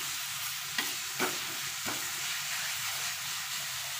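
A stuffing mixture is sautéed in a pan, producing a soft, steady sizzle with a few scattered spatula scrapes early on, quiet and close, with no talking.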